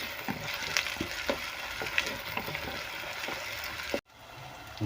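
Ginger, green chili, curry leaves, onions, shallots and garlic sauté in a pan, a soft steady sizzle broken by scraping stirs, then the frying drops to a quieter hiss near the end.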